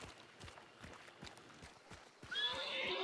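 A horse in the video game Hunt: Showdown lets out a whinnying neigh near the end, over a steady clip-clop of hooves and faint background game ambience.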